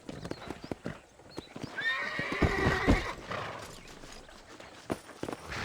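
A horse in the Western video game Red Dead Redemption gives a loud whinnying neigh over clip-clopping hooves and saddle creaks, with a brief voice nearby.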